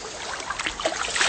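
A river current rushes and gurgles close by, a continuous broadband wash of moving water that swells slightly toward the end, with no voices.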